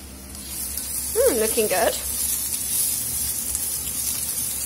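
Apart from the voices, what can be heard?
courgettes and onions sizzling in a frying pan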